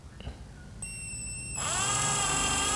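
A budget Maishi cordless drill spins up at its slower speed setting, giving a steady, loud motor whine with a rising tone that holds evenly once up to speed, close by and without talk over it.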